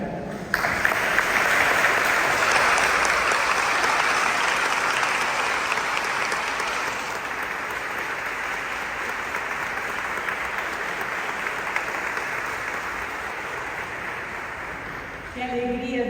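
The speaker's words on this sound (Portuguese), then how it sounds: "Essa salva de palmas." A standing audience at a talk gives sustained, loud applause, a dense wash of clapping that fades slightly toward the end.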